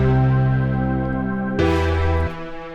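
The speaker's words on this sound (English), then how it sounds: "a big brass stab," Big brass stab synth patch in an electronic track, a held bright chord that shifts to a sharper, brighter stab partway through, then drops back, loud and with no voices.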